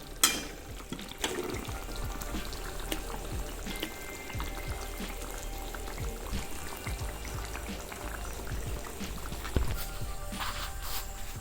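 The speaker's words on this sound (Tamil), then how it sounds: "எண்ணெய் நல்லா கொப்பளிக்குது பாருங்கள்" Oil bubbles gently around garlic pickle cooked with jaggery, a faint, steady low crackle and simmer with occasional soft clinks, heard quietly and without talking.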